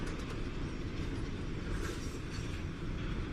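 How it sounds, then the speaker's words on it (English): Freight train wagons hauling copper roll through the Atacama desert, a steady dense rumble of rail traffic with faint clickety-clack, continuous and fairly close, no voices. "pure copper rolls out of the desert on huge, never-ending wagon trains"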